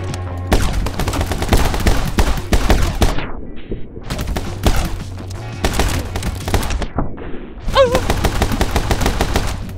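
Rapid video-game gunfire of incoming bullets bursts in dense volleys with music underneath, cutting out briefly around the middle and resuming loud and close.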